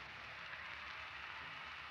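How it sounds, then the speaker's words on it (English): A faint, steady hiss of rain patters continuously as a radio drama sound effect, soft and even throughout with no voices over it. "It's nice, isn't it? Lying here and listening to the rain."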